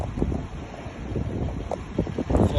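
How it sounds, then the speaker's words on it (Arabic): A used six-cylinder car engine idles steadily at a Saudi used-car market, a low, even rumble mixed with heavy wind buffeting on the microphone and outdoor noise. "هذا صوت الماكينة"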